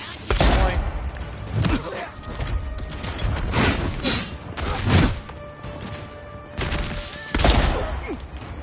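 A gun firing in the video game Avowed: several loud, separate bursts of shots spread across the stretch, with voices talking in between.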